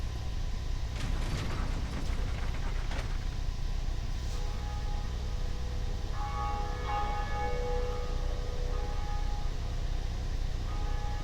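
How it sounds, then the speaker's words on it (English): First Bell of Awakening rung in the Dark Souls game, a low mechanical clank and creak followed by sustained metallic bell tones, steady and moderately loud over a constant ambient drone, with no talking. "so that's the first bell of awakening"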